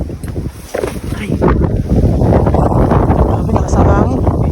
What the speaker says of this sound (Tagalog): Grabe, nakasama hangin.